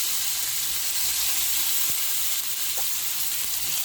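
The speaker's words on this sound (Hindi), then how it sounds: "अब इसमें हम जो है अपने जो मैरिनेट किया हुआ चिकन सेट कर देंगे सारा अच्छी तरह से, और पलट के हम दोनों तरफ से इसको फ्राई कर लेंगे" Marinated chicken pieces sizzle steadily in a pan over a medium-low flame, a continuous close frying hiss with a few faint knocks and no talk.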